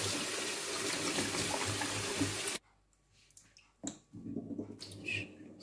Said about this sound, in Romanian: Spălăm bine în câteva ape.